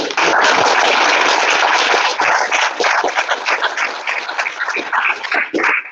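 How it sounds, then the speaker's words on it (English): Audience applause at a student pitch evening, a dense, steady wash of clapping from a crowd lasting about six seconds before tapering slightly near the end. "a round of applause"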